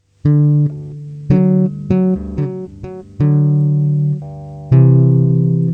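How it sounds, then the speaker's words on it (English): Tapped chords on a bass guitar, a series of about eight distinct struck chords with ringing harmonics, some sustained longer than others, played clearly and alone with no talking. "I'm gonna get a little more complicated and do some chord taps"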